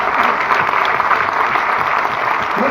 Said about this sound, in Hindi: हमारे इन नए दोस्तों के लिए एक बार जोरदार ताली बजा दीजिए।